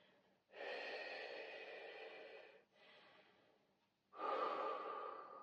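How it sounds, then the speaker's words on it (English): Deep breaths during a cool-down stretch after a full-body bodyweight strength workout: a long close inhale-exhale, a shorter softer one, then another strong breath, with no talking. "with some nice deep breathing"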